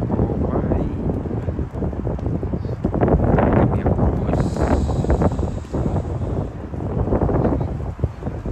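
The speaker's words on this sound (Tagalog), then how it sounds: "So ganihang mahangin," Strong wind buffeting the microphone at Fort Baker Fishing Pier by the Golden Gate Bridge, loud continuous gusty roar rising and falling throughout.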